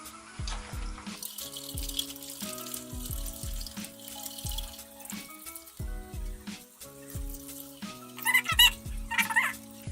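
Running tap water pours into a sink as a makeup brush is rinsed and rubbed, producing rhythmic squeaky tones under the steady flow, close by with splashing picking up toward the end.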